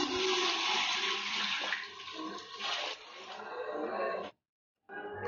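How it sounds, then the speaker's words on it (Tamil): Water rushes into a pot of vegetable biryani masala as a loud, continuous pour that cuts off abruptly and then briefly resumes. "இப்போ தண்ணி சேர்த்துக்கலாங்க."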